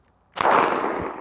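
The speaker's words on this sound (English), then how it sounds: "We're going to send a Minuteman Munitions 9mm round into it and see how it does." A single sharp 9mm gunshot, a Minuteman Munitions round fired into a surplus British Kevlar armor vest from about 10 feet away, cracks loud and close, then a long ringing echo trails off.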